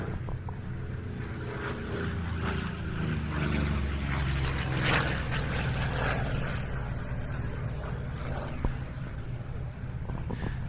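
A carrier-borne propeller aircraft with a Pratt & Whitney engine drones steadily at an air show, a loud sustained roar with a rough propeller rumble that holds throughout.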